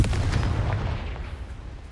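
A Confringo fire spell blasts in Hogwarts Legacy, a booming, rumbling impact that hits hard and then fades into a decaying roar.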